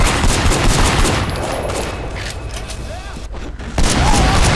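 Rapid bursts of gunfire from the Sleeping Dogs action game, dense and loud, crackling over a busy mix of game noise with a brief lull before the shooting resumes.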